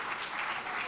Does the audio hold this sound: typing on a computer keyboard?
no